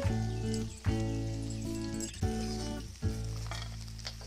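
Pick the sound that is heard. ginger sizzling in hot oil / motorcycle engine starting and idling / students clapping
ginger sizzling in hot oil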